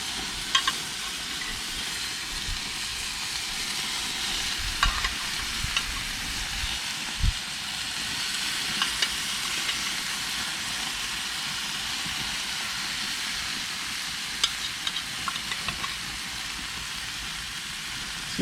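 Onions sizzling on a grill with teriyaki sauce, a steady close hiss of frying with occasional crackles and pops, sauce dripping onto the fire below, with no talking.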